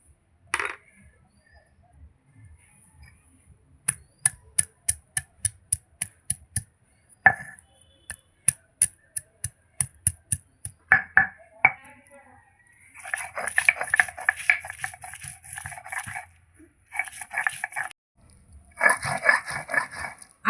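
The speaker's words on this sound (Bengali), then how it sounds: "এবার জিরের সঙ্গে আদা রসুনটা বেটে নেব" Ginger and garlic are ground with cumin on a traditional grinding stone: a steady run of close, sharp knocks pounding in rhythm, then longer rough scraping strokes of stone on stone in repeated bursts.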